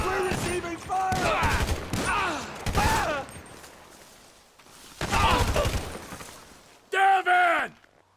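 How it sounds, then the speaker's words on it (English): Gunfire in the Grand Theft Auto 5 video game: loud, repeated bursts of shots mixed with shouting voices, with a quieter lull in the middle before a final sharp burst. "We're receiving fire!"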